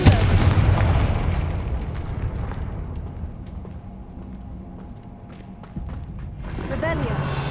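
Explosive Confringo spell in Hogwarts Legacy on PS5, opening with a loud booming blast that rolls off into a long rumbling decay, then a second burst of game effects near the end.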